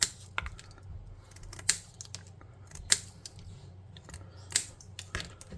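Scissors cutting small pieces of flat material for tabletop terrain, several crisp snips spaced a second or so apart, close and alone.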